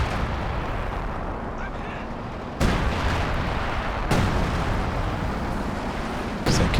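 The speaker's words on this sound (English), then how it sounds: "Wow, dropping the sector artillery." Sector artillery barrage in the Company of Heroes 2 strategy game, with heavy shells landing in three or four loud booming impacts over a steady low battle rumble, no voices.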